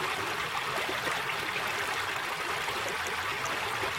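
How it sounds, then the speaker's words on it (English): Rain sound effect sample loaded for a lo-fi beat, a steady dense hiss of falling rain that stays even and unbroken from start to finish, with no talking. "We're just going to use this kind of rain sound here."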